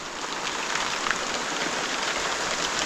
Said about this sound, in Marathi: पाऊस येणार आहे मजबूत आवाज येतोय मगापासून